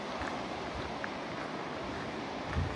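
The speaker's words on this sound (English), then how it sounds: "and now the water is flowing back." Rapid river water rushes through a bend near Mount Denali, a steady broadband wash at low level with no voices.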